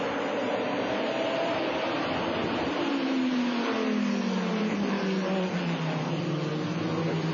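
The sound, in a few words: GT race car accelerating at Watkins Glen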